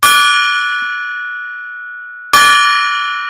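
A gong struck twice about two seconds apart, each hit blooming into a loud, close, sustained metallic ring that fades slowly, with no talking.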